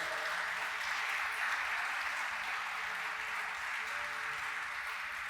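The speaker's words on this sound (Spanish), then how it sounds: "Dele un aplauso a Dios si usted es uno de esos" A church congregation applauds during a sermon, a steady, fairly soft wash of many hands clapping from a distance without pause.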